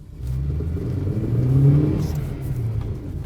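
VAZ 21099 car accelerating on wet asphalt, a short engine rise swelling to a peak mid-clip and then easing, close and moderately loud with no voices.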